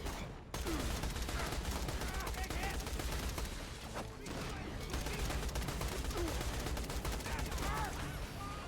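Dense, rapid video-game gunfire rattles almost continuously in overlapping bursts, loud and close, with only brief dips between volleys.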